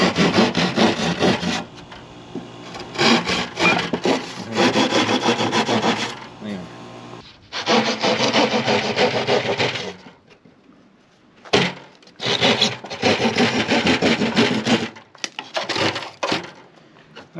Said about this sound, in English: Pencil, then you take your drywall saw.